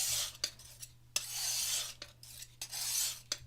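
A muller grinds African earth pigment on a hard slab in repeated gritty rasping strokes, each sweep separated by brief pauses, close and with no talking.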